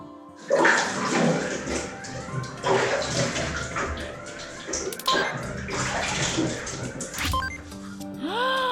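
Tap water runs steadily as a child washes their face at a bathroom sink, with splashing and rinsing bursts, while voices talk over it throughout.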